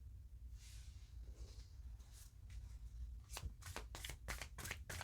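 Tarot cards are shuffled by hand, soft sliding and rustling at first, then a quick series of crisp riffling snaps close by, with no talking.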